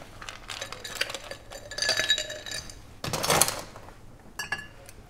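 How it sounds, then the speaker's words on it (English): Fresh ice cubes tumble into a cocktail glass for an elderflower and tonic drink, a run of light clinks and clatters with one louder rattle partway through. "And then we just top with some fresh cubes of ice."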